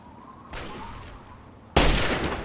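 Gunfire in the video game Fallout 3, a couple of sharp shots followed by a louder, sustained burst of firing that continues to the end, heard fairly close over a steady game tone.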